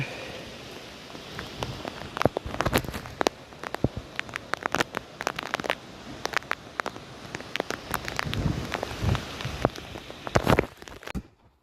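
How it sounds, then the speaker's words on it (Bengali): Steady rain falls outdoors, with a continuous patter and frequent sharper drops hitting nearby surfaces throughout. "তো বৃষ্টি নেমে গেছে।"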